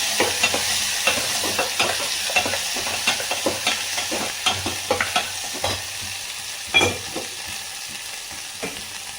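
Vegetables fry in hot oil for a curry, with a steady sizzle broken by repeated scraping stirs of a spoon against the pan, close and fairly loud, with no talking.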